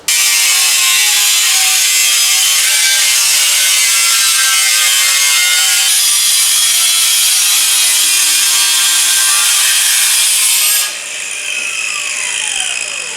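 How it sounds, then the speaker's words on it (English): A saw cuts down the lip of an aluminum radiator, a loud, continuous, close grinding rasp that drops off near the end as the cut finishes. "We're going to go ahead and cut that down."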